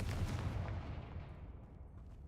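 A Confringo explosion spell in the video game Hogwarts Legacy: a single deep, rumbling blast that starts loud and fades away over about two seconds.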